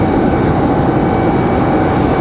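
Aeromexico Boeing 737 MAX jet at Raleigh-Durham airport, giving a loud, steady, broadband engine roar that holds without break, close and continuous, with no talk over it.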